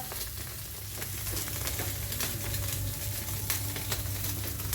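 Onions and an egg fry on a street-food wok for chicken chowmein in West Bengal, a steady close sizzle with clattering spatula strikes and a low hum underneath.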